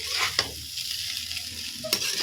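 Chow mein stirred in a pan over a low gas flame sizzles steadily up close, broken by two sharp scraping strokes of the spatula, with no talking.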